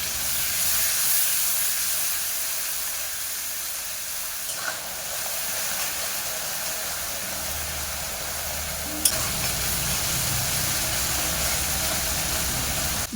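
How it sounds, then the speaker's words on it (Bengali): Spice paste of ground turmeric, chilli powder and freshly ground spices sizzling steadily in a pan with a splash of water, a continuous bright hiss broken by a couple of brief stirring clatters. "অল্প করে জল দিয়ে মশলাকে কষে নেব।"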